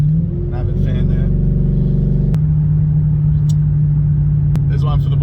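A cammed Ford BA GT engine with a GTHO cam idles steadily, a loud, close, continuous low rumble with a slightly lumpy pulse and brief voice fragments over it.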